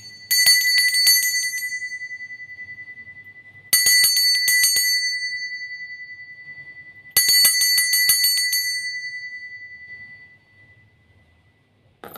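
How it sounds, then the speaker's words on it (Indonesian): A bright bell rings three times, each strike sharp and then fading slowly, with quiet gaps between rings in an otherwise still room. "Kita akan memulai dengan ditandai lonceng berbunyi."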